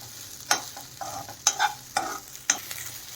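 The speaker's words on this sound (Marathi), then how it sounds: "आता ह्या तुपामध्ये एखादा दोन मिनिट असंच परतून घ्यायचं आहे कमी गॅसवरती" Soaked sago pearls sautéed in ghee over low heat, heard as a spoon scraping the pan in several sharp strokes about every half second over a faint, steady sizzle, with no talking.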